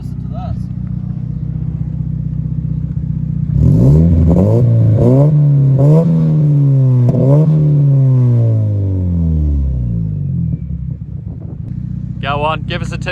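A 2000 Nissan Silvia S15 Spec R with an SR20DET engine, bore exhaust and bigger turbo revs up hard several times from a rumbling idle, climbing and falling loud and close, then settles back to idle.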